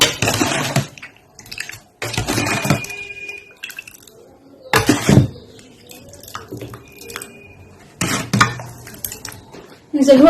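Milk with sugar and overnight-soaked seeds being stirred in a bowl, clinking spoon and utensil knocks in several separate bursts with quiet gaps between, close and fairly loud.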